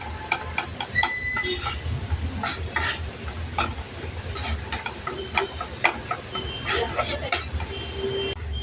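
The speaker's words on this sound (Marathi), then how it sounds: "बघा, आपलं पीठ छान भाजत आलेले आहे आणि त्याला थोडंसं तूप पण असं सुटतंय बघा।" Wheat flour roasts in ghee in a pan as a utensil stirs it steadily, making close, repeated scraping strokes over a gentle sizzle.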